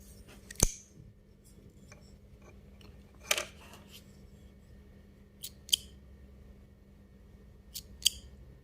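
A sharp yarn cutter snips yarn in a quiet room, giving four crisp, isolated cuts spaced a few seconds apart, close and clear with no talk.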